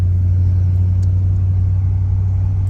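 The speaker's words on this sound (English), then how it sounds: "I love driving this car" A 1972 Ford Thunderbird on the move, giving off a steady, loud low engine rumble and road drone that holds even throughout with no speech.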